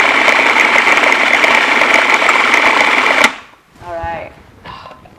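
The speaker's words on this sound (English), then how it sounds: "All right, so this has been blending." Blender running on nettle pesto, a loud steady whirring motor that cuts off abruptly, followed by a person talking in the quiet.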